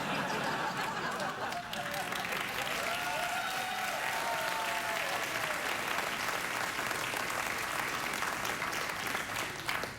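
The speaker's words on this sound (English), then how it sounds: "Thanks, audience, for applauding." A studio audience at a late-night talk show applauds steadily and loudly for about ten seconds, dense clapping with faint chuckles mixed in.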